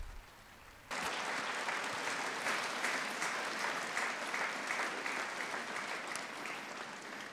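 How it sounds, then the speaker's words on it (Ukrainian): A short quiet lead-in gives way abruptly to sustained applause from a large gathered congregation, a thick, steady roar of many hands clapping that holds at full strength and eases only slightly toward the end. "C'est donc Marie et Jésus qu'il faut applaudir"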